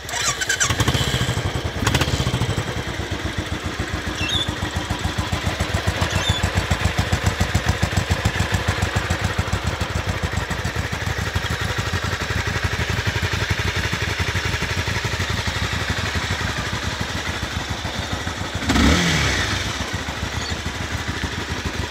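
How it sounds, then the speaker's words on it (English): A Royal Enfield Classic 350 motorcycle engine starts with a couple of bursts, then settles into a loud, steady thumping idle, close by, with a brief revving blip near the end. "I'll start it up and you can hear the sound."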